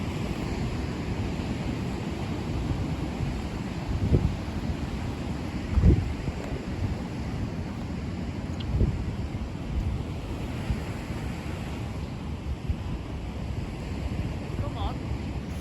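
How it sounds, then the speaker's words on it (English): Strong outdoor wind buffets the microphone in a continuous low roar with occasional louder gusts, no clear voices. "It is very windy, so you'll have to excuse the shots."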